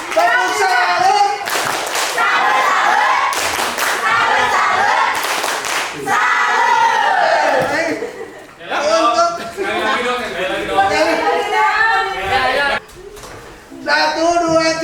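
At a school education meeting in Indonesia, an audience performs the tepuk salut cheer, with bursts of loud group clapping in rhythmic sets between shouted chant lines from many voices.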